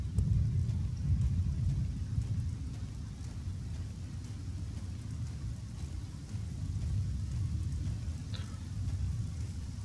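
Steady low rumble of a storm with rain in the survival video game Sunrise Survival, a continuous broad wash with no distinct thunder crack, moderately loud throughout.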